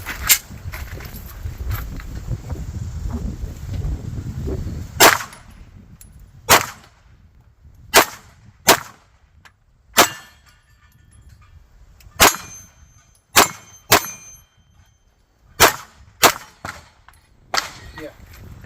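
Shots from a CZ P10 F pistol ring out at steel targets, a dozen sharp reports spaced a second or so apart, each followed by a bright metallic clang, loud and close outdoors after a stretch of wind and rustling.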